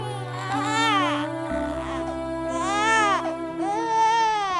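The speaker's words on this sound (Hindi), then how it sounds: "ये तो मेरे बच्चे के रोने की आवाज है।" An infant cries in a Hindi cartoon story, a loud, wavering wail rising and falling in several long bursts, close and alone without any speech over it.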